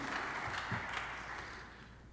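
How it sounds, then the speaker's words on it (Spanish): A church congregation applauds together in a dense, sustained wash of clapping that softens slightly toward the end, heard from within the room. "Denle un aplauso al Señor porque Cristo es la razón de mi vida"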